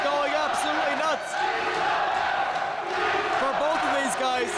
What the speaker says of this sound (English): this crowd absolutely crazy, going absolutely nuts